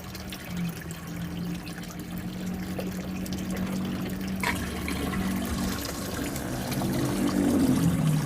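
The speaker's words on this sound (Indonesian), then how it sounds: "Seperti ini pompa kita bisa hidupkan lagi." A fish pond water pump running in a chili-growing setup, circulating water with a steady, continuous pouring and trickling wash that stays close and fairly loud throughout, swelling slightly near the end.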